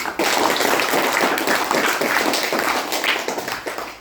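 A room full of trainees applauds for Felix during a counseling-skills workshop session, a dense, steady wash of many hands clapping at close range with no talk over it.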